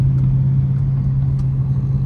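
A 2023 RT car driving through a neighborhood, heard from inside as a steady loud low engine drone and road rumble, continuous and unchanging.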